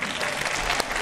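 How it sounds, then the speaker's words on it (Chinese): An audience at a concert claps together in a brief, dense burst of applause that stays loud for about a second. "好，给点掌声嘛！"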